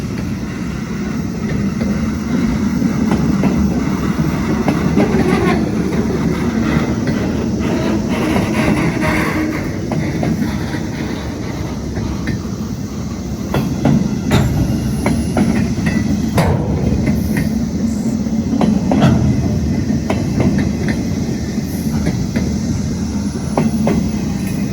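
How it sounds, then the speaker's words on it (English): A long Norfolk Southern train of stored cars rolls steadily past on a steep grade and superelevated curve, wheels clicking and rumbling continuously at close range, with no talk. "This is a long train. I can't see the end of it because of the trees."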